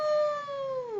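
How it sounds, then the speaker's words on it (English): A long, scary animal howl rising and sliding slowly downward, sustained and clear, close and fairly loud with steady harmonic tone, like a coyote's awoo. "The next noise is a long, scary howl."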